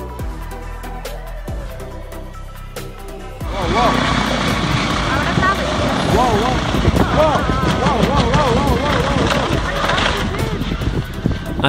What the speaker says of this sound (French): À haute altitude en montagne, l'air est tellement raréfié que les rotors de l'hélicoptère ont du mal à s'élever.